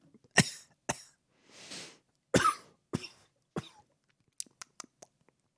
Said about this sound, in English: the host just coughing in your ear